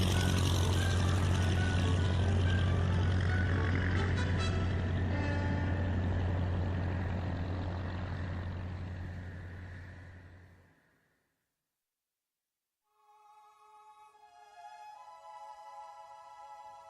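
A vehicle engine in a radio drama roars loud and steady, then fades away over about ten seconds as the vehicle drives off, followed by a moment of silence and then soft music.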